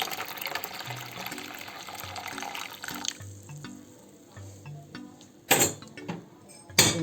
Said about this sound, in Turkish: Hemen şöyle sıcak suyumu ekliyorum.